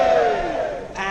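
A crowd at a London cycling event raises a loud, sustained cheer with hands in the air, a dense roar of many voices filling the whole moment.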